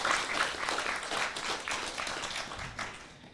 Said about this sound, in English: Give a big round of applause to our dear devotees.